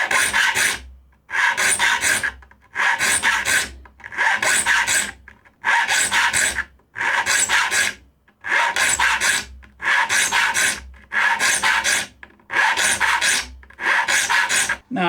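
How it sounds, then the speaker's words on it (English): Long rasping strokes of a file sharpening the teeth of a new handsaw, a steady back-and-forth rhythm of about a dozen loud, close strokes with short pauses between them and no talk. "if you feel like it's not sharpening it quite as well, switch over to another side of your file."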